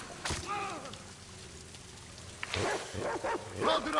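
A dog barks a few short times in The Last of Us Part II on PS5, fairly faint under game ambience, and someone talks over it.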